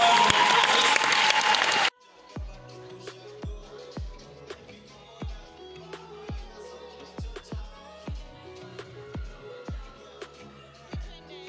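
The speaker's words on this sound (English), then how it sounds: "One more time, a round of applause for our beautiful actors." Audience applause for actors at a curtain call of a virtual reality show, a loud burst of clapping that cuts off sharply after two seconds, followed by music with regular plucked or struck notes.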